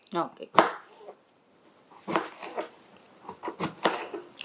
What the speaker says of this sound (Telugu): తొక్కతో చేస్తాం దాన్ని చిన్న చిన్న ముక్కల కింద కట్ చేసేయండి